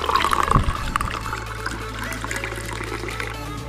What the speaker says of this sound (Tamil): இப்போ பாலை வந்துட்டு ஏதாச்சும் ஒரு கிளாஸில் நம்ம ஊற்றிப்போம்.